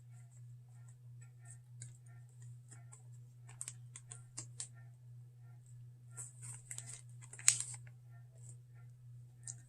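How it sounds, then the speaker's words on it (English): Small packets of Dr. Dennis Gross peel pads are torn open in a few sharp, crinkly rips and rustles, close and fairly quiet over a constant low electrical hum, with no talk. "So I'm just going to tear them up"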